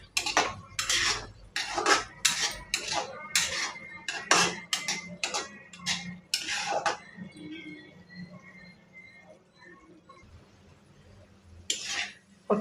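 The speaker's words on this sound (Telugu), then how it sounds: "మొత్తం ఒకసారి తీసుకొని ఒకసారి కలుపుకోవాలి" A spoon clatters and scrapes rapidly against a pan while mushroom curry is mixed, a busy run of metallic knocks that thins out to quiet, with one last clink near the end.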